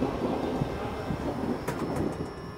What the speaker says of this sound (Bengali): ট্রেন ছেড়ে দিল